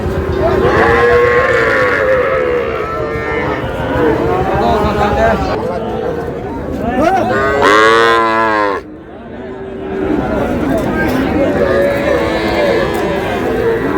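Cattle and young bull and heifer calves moo repeatedly and loudly at a busy livestock market, with long drawn-out calls overlapping constant crowd chatter and nearby voices.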